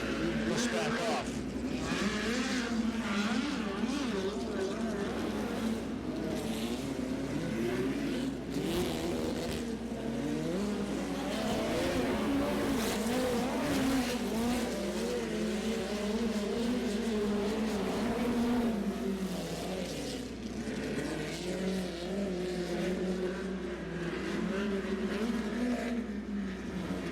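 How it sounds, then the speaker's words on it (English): Midget race cars in a heat race at Jacksonville Speedway, a steady loud roar of engines lapping the oval with rising and falling pitch as cars push around the track, under continuous commentary. "First of 2 midget heats, you can see cars have been firing around the speedway."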